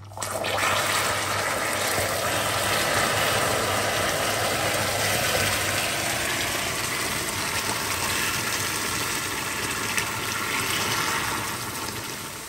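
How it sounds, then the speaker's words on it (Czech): Water pours steadily onto hot caramelized sugar in a pan, a loud continuous hissing and bubbling roar that holds for several seconds before easing slightly. "A pozor, naleju tam vodu."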